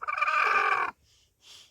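A hen settling onto her eggs gives one close, short, tonal croon lasting under a second, followed by faint soft rustling.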